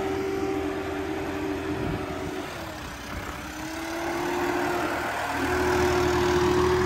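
Swaraj 969 4WD tractor with a turbo engine running at full RPM in third medium gear, a steady loud diesel drone with a brief dip in pitch midway before rising again, alone with no talk.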